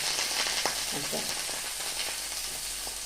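Bitter gourd sautés in a pan with an even, continuous sizzle, close and moderately loud, with faint scraping of a spatula now and then.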